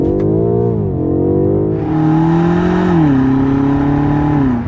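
A 2019 BMW M5 Competition's engine revs hard and climbs in pitch, shifting gears as it accelerates with a loud, continuous roar.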